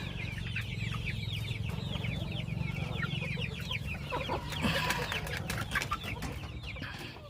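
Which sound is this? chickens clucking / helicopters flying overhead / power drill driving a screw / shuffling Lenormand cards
chickens clucking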